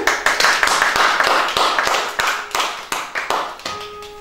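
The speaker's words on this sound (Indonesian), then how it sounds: "Kita tepuk tangan dulu buat Selvi." A group of people applauds a woman named Selvi at a lively gathering, a sustained burst of hand clapping with scattered individual claps and faint voices mixed in, tapering off near the end.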